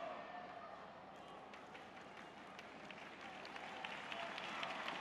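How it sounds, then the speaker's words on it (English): Broad, steady applause from a Brazilian crowd in a judo arena after a women's -48kg Grand Slam final, a continuous wash of distant clapping that swells slightly toward the end. "Sporting applause"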